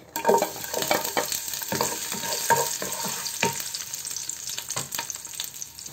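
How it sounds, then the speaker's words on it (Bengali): Chopped garlic frying with bay leaves, cardamom, cinnamon and garam masala in a pan, a close sizzle broken by repeated spatula stirring scrapes and clicks, with no talking. "আচ্ছা, রসুন ভাজাটা হয়ে গিয়েছে দেখতে পাচ্ছ।"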